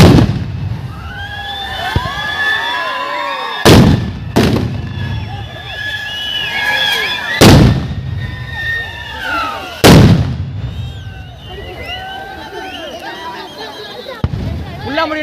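Fireworks display bursting outdoors alongside other festival setups, with several loud sharp explosions spaced a few seconds apart over a crackling, whistling background of smaller pops; voices are heard in the crowd.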